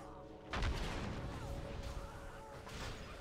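Hunter's Cobra Shot ability in World of Warcraft firing, a sudden booming blast followed by crackling impact effects and a second burst near the end, over game background sound.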